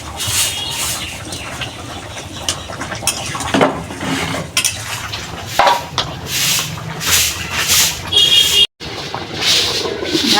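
Fish pieces go into simmering curry broth in a metal pot, a series of close, loud clanks, splashes and utensil scrapes with pauses between, under faint outdoor background noise.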